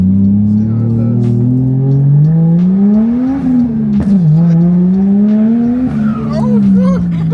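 A Toyota Chaser with a 1JZ engine revs loud and close from inside the car, its engine note rising and falling across gear changes as it pulls hard, with excited voices over it.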